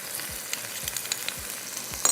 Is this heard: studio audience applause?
no